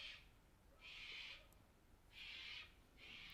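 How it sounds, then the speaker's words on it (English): A cockatoo calls outside, giving faint, distant, harsh screeching bursts in a slow repeating pattern, about four calls over quiet background. "it's a cockatoo outside."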